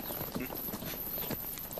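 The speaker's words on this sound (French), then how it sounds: "Amenez le cheval." Horse hooves clip-clopping in a steady walking rhythm, moderately close, with a low rumble of background ambience.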